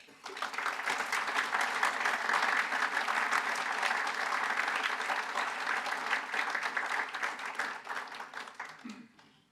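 An audience breaks into steady, sustained applause to welcome a visiting professor to the lectern for an evening lecture, many hands clapping evenly for several seconds before tapering off.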